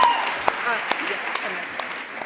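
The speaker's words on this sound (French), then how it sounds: "Merci, on peut les applaudir." Audience applause at an e-tourism startup contest and social media awards ceremony: steady broadband clapping with a few sharper individual claps standing out, and some voices faintly audible underneath.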